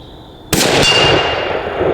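A Remington 700 ADL bolt-action rifle fires a single sharp, loud shot outdoors, and a steel target plate answers with a metallic clang whose bright ring lingers and fades over the next second.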